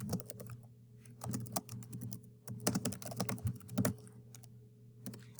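Keys on a computer keyboard clatter in quick irregular bursts with short pauses, close and fairly quiet, with single presses such as the tab key mixed into the run of typing.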